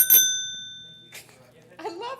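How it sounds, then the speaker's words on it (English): A single bicycle bell rings once with a clear bright ding that rings out slowly, handed out as a gift at a city commission meeting, followed by a voice speaking briefly near the end. "we got bike bells"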